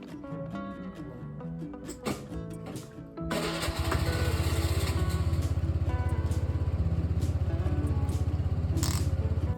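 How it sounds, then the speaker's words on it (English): A moped engine sputters and catches, then runs with a steady, rapid putter, loud and close, while riding along in Greece. "we ended up driving around with the moped again"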